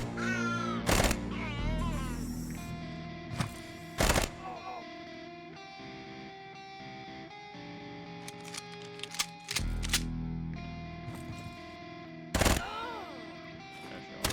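Gunfire from the video game Quasimorph, several sharp separate shots spaced out over a quiet background with game tones, plus a voice mingling with the sounds.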